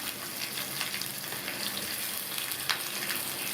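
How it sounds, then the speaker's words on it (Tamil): Green chillies, garlic, shallots and a piece of tamarind sautéing in a teaspoon of oil for a chutney, giving a steady, even hiss and sizzle throughout with faint scattered crackles, close and without talk. "இது எல்லாத்தையும் 1 நிமிஷம் போல் வதக்கிக்கணும்."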